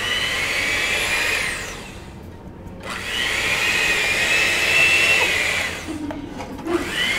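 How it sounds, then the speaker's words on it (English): An electric mixer whirs at high speed while whipping a lemon raspberry dessert mixture, a loud steady motor whine that drops away briefly, restarts and runs again before easing off near the end. "this mixer starts off really high speed"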